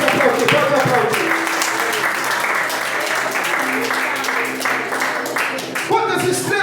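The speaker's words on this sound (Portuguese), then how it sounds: "Pode aplaudir, pode aplaudir, pode aplaudir." A church congregation applauds during an evangelical service: dense, sustained clapping that fills the room throughout, with voices and cheering mixed in.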